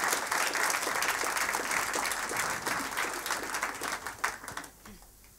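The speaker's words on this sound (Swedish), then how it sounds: "den ska ha en applåd" An audience applauds at a Children's Day event in Malmö, honouring children's artwork interpreting article 16; dense steady clapping that tapers off near the end.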